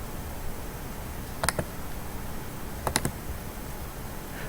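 Computer mouse right-clicks come in two quick pairs of crisp, close ticks, spaced a second or so apart, over a steady faint room hiss with no talking.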